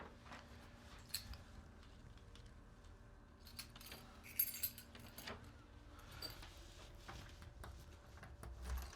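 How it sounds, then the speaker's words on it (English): A set of keys grabbed and jangling in a Toll Brothers six-bedroom home, with faint light clinks and jingles scattered through a quiet room, including a brief louder rattle near the middle. "So let me turn you around and grab the keys."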